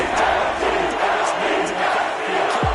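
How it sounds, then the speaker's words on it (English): A home crowd in the football video game Madden 22 roars continuously, a loud, sustained wash of cheering with no pauses across the whole stretch. "And the home crowd applauding."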